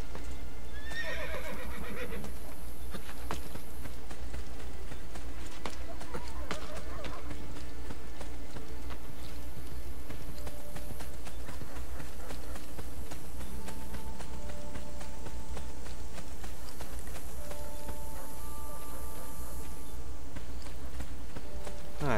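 Horse in the Assassin's Creed Brotherhood video game, a neigh followed by steady galloping hoofbeats over continuous game music and ambience, fairly loud and close.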